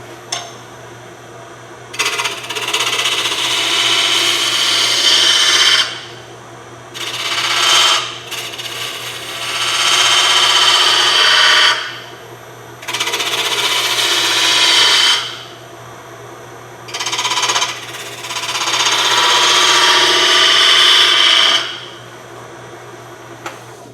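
A spindle gouge cuts a side-grain palm wood piece spinning on a lathe, producing loud, hissing scraping bursts of several seconds each, separated by short pauses, over a steady low motor hum.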